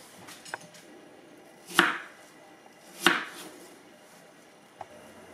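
A knife slices through apples into thirds on a cutting board, two distinct firm chops about a second apart, close and crisp, with faint lighter taps before and after in a quiet kitchen.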